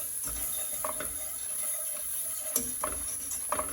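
Plain flour is stirred into a pan on the stove, making soft scraping and rubbing strokes with a few light utensil taps against the pan over a faint background hiss.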